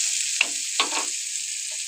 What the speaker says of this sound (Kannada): ಒಂಚೂರು ಬಾಡಿಸ್ಕೋಬೇಕು ಈರುಳ್ಳಿನ.